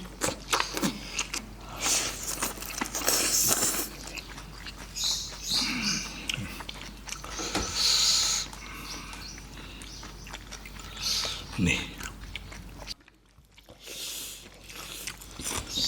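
Loud, close crunchy chewing of Thai fermented salmon som tam rolled in large mouthfuls of fresh vegetables with khanom chin rice noodles, in irregular bursts of crisp bites and wet mastication with no talking.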